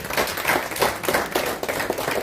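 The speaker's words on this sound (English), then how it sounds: "Please a big round of applause." Audience applause at a community group's annual meeting, a moderate, fairly even patter of many hands clapping that rises and falls in waves.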